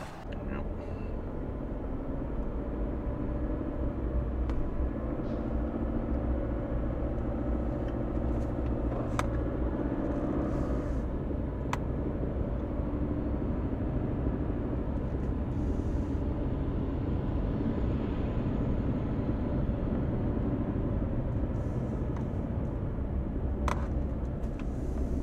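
A parked semi transport truck at a ferry terminal rumbles with a steady, low engine drone that holds for the whole stretch, with faint distant clicks and noises over it.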